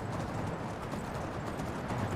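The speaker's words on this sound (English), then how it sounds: "In my mind, Shadowmere is a horse of pure blackness" Hooves of a horse clip-clopping steadily in the game Skyrim, a dense continuous patter of footfalls at moderate loudness with no talk over it.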